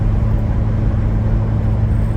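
Ford Bronco Raptor cruising at higher speed, a loud steady engine and road rumble heard from inside the cabin, continuous and even with no voices.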